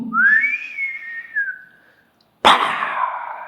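A voice whistles a rising then slowly falling tone lasting about two seconds, imitating a mortar shell in flight, then after a short silence bursts into a loud, noisy mouth-made impact.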